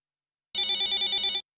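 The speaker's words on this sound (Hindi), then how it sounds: "फोन उठाइए।" A telephone rings in a domestic sitcom scene, a clear electronic trilling bell pulsing in about eight quick bursts for under a second, loud and alone with no talk over it.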